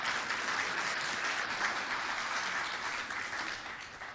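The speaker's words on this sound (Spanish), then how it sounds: "¿Cuánto le dan un aplauso a la pastora Marina?" A church congregation applauds a pastor, producing a dense, steady wash of clapping that holds for several seconds and then slowly fades, with no voices over it.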